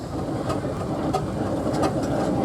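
A small steam engine runs at an outdoor steam rally, giving a steady, dense mechanical rumble with faint rhythmic clanks, close and continuous throughout.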